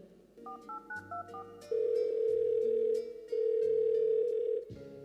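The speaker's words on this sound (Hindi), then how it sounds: "चलो मैं अपने बेटे को फोन लगाती हूँ।" A telephone plays a short run of rapid dialing beeps, then two long steady ringback tones separated by a pause, all loud and close, heard during a school drama scene.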